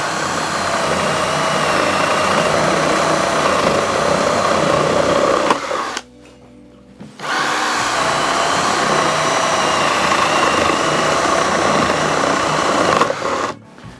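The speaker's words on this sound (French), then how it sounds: "Voyons maintenant ce que donne le perçage de cette pièce de bois, donc une pièce de palette relativement sèche." A Hikoki D18DJLWVZ cordless drill bores into a piece of fairly dry pallet wood, a steady loud whine with grinding texture running continuously, briefly cutting out for about a second midway before resuming at full strength.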